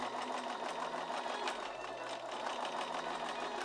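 A sewing machine stitches straight seams through quilted calico with wadding, a steady close mechanical whir that runs on without a break and has no talk over it.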